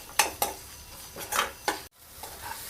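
Beetroot and mixed vegetables with ginger paste being stirred and fried in a pan, with a steady soft sizzle under repeated sharp scraping strokes of a spatula against the metal, close by.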